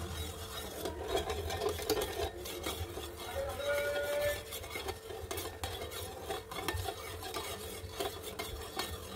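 A spoon scrapes and stirs a sugar and ghee mixture in a pot, giving steady, close, low-level scraping and clinking with no talk.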